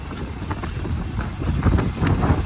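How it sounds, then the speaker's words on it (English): Gusty wind buffets the microphone with uneven low rumbling bursts, growing stronger toward the end, on open water by a sailboat heading for a mooring ball. "A little windy still."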